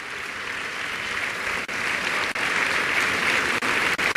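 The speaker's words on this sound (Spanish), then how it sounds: "Dele un aplauso al Señor." Sustained crowd applause at a church service, steady and dense, with a few brief dips; no talking over it.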